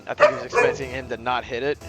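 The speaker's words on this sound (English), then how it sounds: "Sorry about the dogs, everyone." Dogs bark and yip in the background of a live Rocket League match broadcast, a few sharp yelps heard underneath a commentator who talks over them throughout.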